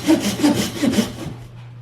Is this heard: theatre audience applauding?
no